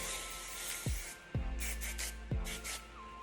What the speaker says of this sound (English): as your firm hold finishing spray.